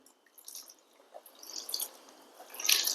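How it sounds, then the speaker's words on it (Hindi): Cold water poured over a deformed plastic bottle that held hot water: uneven dripping and splashing, faint at first, building into louder spattering toward the end, with no voices. "इसके ऊपर जब हम ठंडा पानी डालते हैं,"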